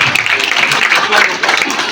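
Children applaud at an Urdu-medium primary school gathering in Dhamangaon, a dense patter of clapping that is loud and close, continuous through the short moment, with voices mixed in.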